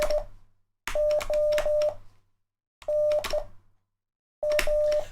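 Short electronic beeps entered as Morse code in a video game come in quick clusters of dots and dashes separated by brief silences, clear and close.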